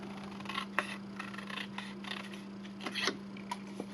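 Scissors trimming a marked strip of paper, a run of short crisp snips and rustling cuts close by, fairly quiet over a steady low electrical hum.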